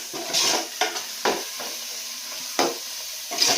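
A spatula scrapes and knocks in a pan of frying onions, tomatoes and curry leaves for a Nellore fish curry base, several uneven strokes over a quiet sizzle, close, no talk.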